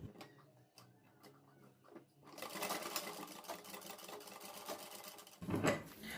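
Sewing machine stitching a collar onto a kurti, a quiet start with a few ticks, then a steady mechanical whirr of fast stitching that stops and resumes in a short burst.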